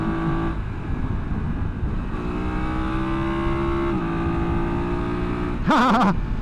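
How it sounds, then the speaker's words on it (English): A BMW F900GS Adventure motorcycle engine hums at steady speed, then rises and falls in pitch as it shifts, ending with a loud rev burst. "The motor has a nice"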